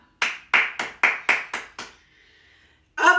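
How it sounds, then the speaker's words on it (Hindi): Seven sharp hand claps in a quick even rhythm, close and loud, followed by a short quiet gap before a burst of other sound. "तालियां।"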